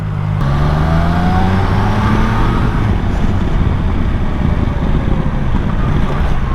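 Triumph Tiger Sport 660 motorcycle ridden through town traffic, its engine note climbing then dropping under heavy steady wind rush against the microphone, loud and continuous, with no talking.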